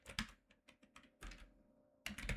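Keystrokes on a computer keyboard as a command is typed into a terminal, heard as quick, close clicks in short irregular bursts with a pause before a final fast flurry; no talking.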